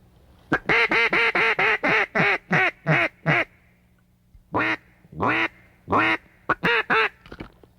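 Duck calls blown on a duck hunt: a fast run of eight loud, close quacks, a pause, then several more scattered quacking bursts, with no talking.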